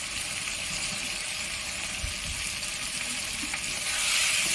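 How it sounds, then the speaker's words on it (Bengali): Soya chunks being stirred with chili, turmeric, cumin and Kashmiri chili powders in a frying pan, a steady close sizzle with occasional scraping of the spatula, no talking. "এইভাবে এটা নাড়াচাড়া করে নেব নাড়াচাড়া করে নিয়ে"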